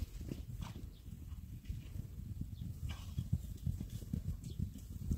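Horses that have strayed into a field move about, their hooves thudding and clopping softly in an uneven, continuous patter at moderate distance, with no voices.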